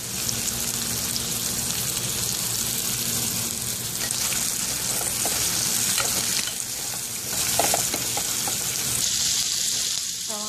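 Sliced onions sauté with salt in a hot pan for a Kerala coconut chicken curry, giving a steady, dense sizzle with scattered stirring scrapes and ticks throughout, close and continuous with no talk.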